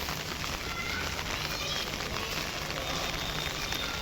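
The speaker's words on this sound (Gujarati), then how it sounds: "કેવો વરસાદ છે વરસાદ ચાલુ છે" Steady afternoon rain falls outside in an even hiss of drops that carries on unbroken, with no voices.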